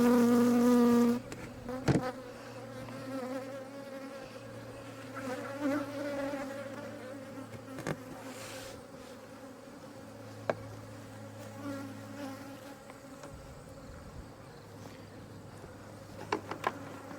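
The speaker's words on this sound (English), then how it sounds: "there's still a lot of bees swarming around here." A swarm of honey bees drones and buzzes around a home hive, individual bees zipping close past at varying pitch over a quieter steady hum, with no talking.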